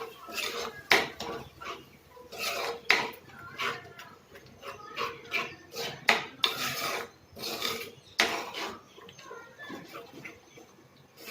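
A spoon scraping and knocking against a metal pot in irregular strokes, stirring thick fish curry gravy, with scattered clanks.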